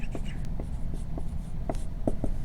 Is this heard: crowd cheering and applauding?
no